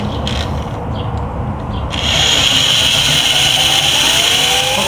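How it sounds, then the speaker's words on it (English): Drilling holes to remove a bushing on a 1977 El Camino: a steady, grinding mechanical whir that gets louder and harsher partway through and then runs on continuously, close by with no talking. "getting this bushing out, is drilling these 4 holes."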